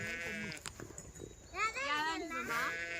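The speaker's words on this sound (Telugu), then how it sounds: "ఇంకా ఒకటి రెండు పిల్లలు అక్కడే బయటని గొర్రెల్లో ఉంటే అవి అల్లిస్తూ ఉన్నారనమాట" Lambs and sheep on a farm bleat in quivering, wavering cries, fairly faint and partly beneath someone talking nearby, with a few overlapping calls in the second half.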